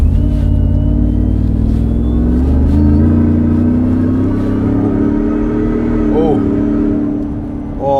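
A 2020 Ford F150 Shelby Super Snake with a Whipple supercharger, rated at 770 horsepower, revs and accelerates under load, its loud, steady engine drone rising in pitch through the gears and holding close and continuous throughout.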